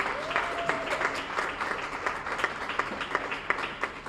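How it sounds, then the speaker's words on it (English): A town hall audience claps in sustained applause, a dense, even patter of many hands filling the room, with faint voices mixed in. "give a big round of applause to my friend, your friend, our leader, Congressman Hakeem Jeffries"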